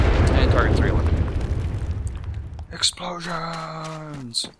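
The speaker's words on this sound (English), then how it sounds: "Explosions!" A deep, rumbling blast fills the first seconds, then fades as bright synthetic tones and short pops follow, like a game's explosion and effects.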